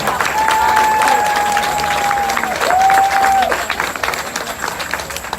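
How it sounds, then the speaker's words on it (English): Audience applause at a hearth gathering honouring a woman named Pam, a steady wash of clapping with a faint sustained tone running through it. "So let's give Pam another round of applause here."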